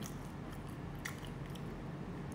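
Close, wet chewing of a butter-sugar bread with coconut topping, soft squishy bites running steadily for a couple of seconds with no talk.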